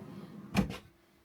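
Two quick soft thuds of a storage drawer opening or shutting inside a Coachmen Prism Elite 24FSE RV, brief and fairly quiet in an otherwise still interior.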